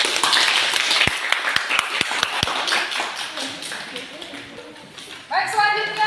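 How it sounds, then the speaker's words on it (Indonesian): Applause from a classroom for a student group fades into a few sharp, separate claps, then trails off. A voice then talks over the room noise near the end. "Berikan tepuk tangan untuk kelompok identifikasi."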